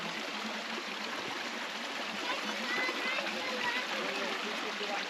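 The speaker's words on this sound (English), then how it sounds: "We have reached the Bronte Bridge and the Bronte Waterfall, which is more of a trickling stream," Bronte Waterfall reduced to a trickling stream after a dry summer, giving a soft, continuous wash of running water, fairly quiet and steady, heard alone with no talking.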